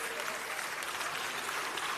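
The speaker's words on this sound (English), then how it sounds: "Please give Chef a round of applause." Audience at a food and drink festival in Lagos applauding a chef after a pizza demonstration, a short, steady burst of clapping from a crowd at moderate distance.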